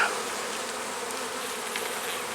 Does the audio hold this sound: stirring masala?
no